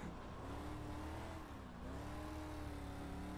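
A race car engine in the iRacing sim holds a steady, loud drone at high revs, with a brief dip partway through before it climbs back. No one speaks.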